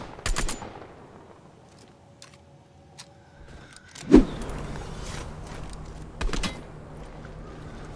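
Gunfire in the video game Fortnite during a solo arena match, sharp bursts of shots near the start and again around the middle and end, scattered among quieter game sounds.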